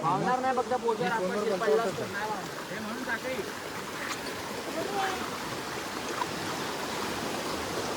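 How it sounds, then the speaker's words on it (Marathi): A flooded river in the Konkan flows strongly, making a steady broad rushing wash throughout. People talk over it in the first couple of seconds before the water noise continues alone. "फुल पाण्याचा प्रवाह एवढा मोठा आहे"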